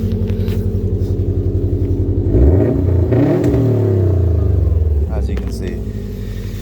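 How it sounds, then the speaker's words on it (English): A 2017 Subaru WRX STi engine idles with a lumpy rumble, then revs up sharply, holds high and drops back to idle, loud and close, with a brief spoken remark over it. "I'll give you a rev."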